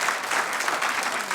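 A church congregation applauds during a Sunday service, a dense, steady burst of many hands clapping close by that fills the moment with no talk.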